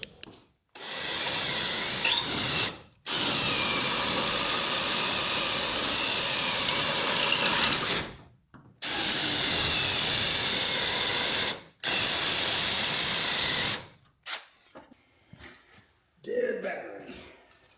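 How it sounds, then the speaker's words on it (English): A power drill bores through the rocker panel of a rat rod in long, loud bursts, stopping and restarting several times before a few softer clanks and handling noises. "now we'll go ahead and drill through all these"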